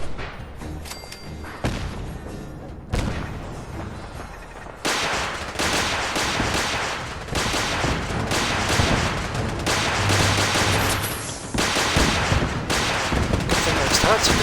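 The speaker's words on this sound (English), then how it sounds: "Good thing those turrets are doing their job." Automated turrets firing in Fallout 4, heard as loud, repeated bursts of gunfire with booming thuds that fill most of the stretch, mixed with other combat noise and some talk.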